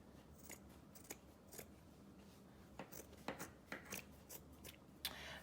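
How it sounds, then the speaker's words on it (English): Scissors cut straight across a t-shirt, giving a series of faint, close snips and fabric rustles in an irregular rhythm with no talking. "I'm just going straight across this t-shirt."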